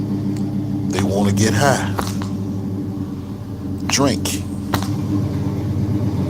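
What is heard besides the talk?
car engine running outside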